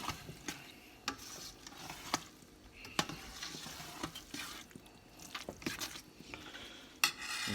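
Gumbo stirred with crab ball seasoning in a pot: quiet, irregular scraping and sloshing strokes with occasional sharp clinks of a utensil against the pot, faint throughout.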